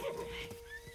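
Horses in the Zelda: Breath of the Wild video game, in an open horse area of the plains: a short whinny rises over steady game ambience, with a faint clip-clop of hooves, close and brief.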